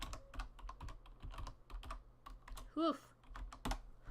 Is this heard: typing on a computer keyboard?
yes